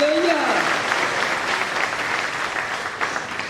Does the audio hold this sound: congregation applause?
yes